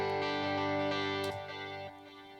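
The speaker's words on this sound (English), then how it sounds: "we can hear a really nice chorus going on the delay effect." A sustained synth-like sample plays in Cubase through a multi-tap delay with chorus applied, giving a shimmering, wavering tone with repeating echoes that thins out and fades in steps.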